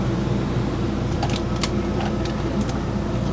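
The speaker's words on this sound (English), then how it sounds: "Oh, that air conditioner feels good." A 12-volt air conditioning unit runs inside a camping van, giving a steady close whirring fan hum with a low constant drone and a few faint clicks and rattles on top, no voices.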